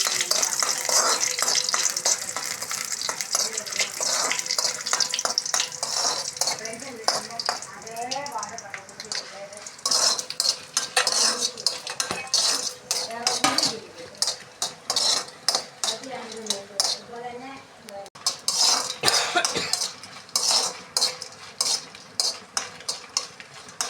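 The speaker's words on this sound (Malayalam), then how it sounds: "അതിലേക്ക് നമ്മൾ എണ്ണ ഒഴിച്ചു. നമുക്ക് അതിലേക്ക് മുളക് ഇട്ടു കൊടുക്കാം." Dried red chillies fry in hot oil while a utensil stirs and scrapes the pan, a loud continuous sizzle broken by quick metallic clatters and scrapes, close up throughout with no voices.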